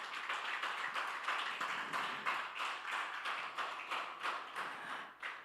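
Congregation in a church clapping in a steady rhythmic beat for Christ Jesus, repeated unison claps roughly twice a second, moderately distant and reverberant.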